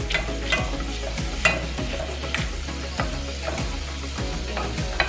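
Butter and garlic sizzle in a pan for a cilantro lime chicken dish, a constant close frying hiss with regular spatula taps and scrapes keeping a steady rhythm, no voices.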